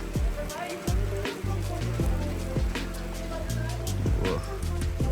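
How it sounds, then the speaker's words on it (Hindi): Heavy rain falls during a motorbike ride from Taobat to Arang Kel in Kashmir: a constant, loud wash of rain and wind noise over a low, steady engine drone, with recurring sharp knocks and thumps from the bumpy ride. "बारिश जो है ना वो पहले आहिस्ता हो रही थी लेकिन अब"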